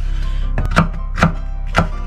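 A knife chops down through an onion on a cutting board in three distinct, evenly spaced thuds, close and clear over a low steady background hum.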